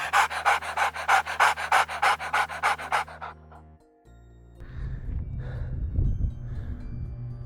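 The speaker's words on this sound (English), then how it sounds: "heavy breathing and we're only that far up" Heavy, fast panting while hiking uphill on Anvil Mountain near Nome, Alaska, in summer: quick rhythmic breaths close to the microphone, then wind and rustling take over.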